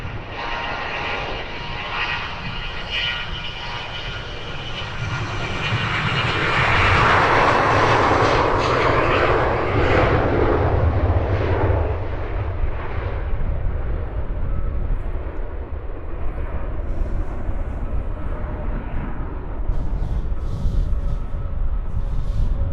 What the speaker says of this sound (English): Early rotation, smoky engines.